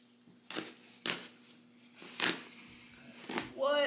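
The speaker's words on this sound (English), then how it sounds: "I'm gonna seam rip off all of the zippers so that I can reuse them for the covers that I'm making" A seam ripper slices the stitching holding zippers onto dirty outdoor cushion covers, giving four short, sharp tearing rips spaced about a second apart, close by, with a brief voice at the end.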